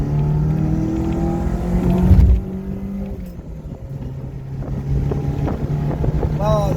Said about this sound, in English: Oh, the sweet sound of the 3S.